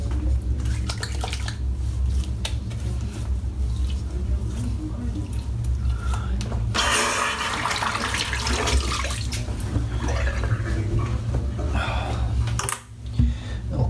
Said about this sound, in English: Okay, let's get this brush rinsed out.